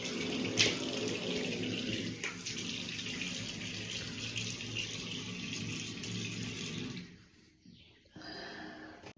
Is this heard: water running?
yes